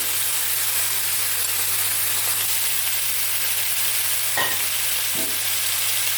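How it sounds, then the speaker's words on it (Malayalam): Chopped apple frying in about two tablespoons of ghee in an uruli pot, cooked for a mixed fruit payasam, gives a steady close sizzle. There are two brief stirring scrapes partway through and no talking. "അതിലേക്ക് നമുക്ക് അരിഞ്ഞു വെച്ചിരിക്കുന്ന ആപ്പിൾ ചേർത്ത് കൊടുക്കാം."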